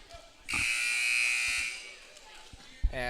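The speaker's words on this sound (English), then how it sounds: "And that's the buzzer." An electronic buzzer sounds during a volleyball game in a gym, a loud, sustained harsh tone lasting over a second, then fading into crowd noise and a voice.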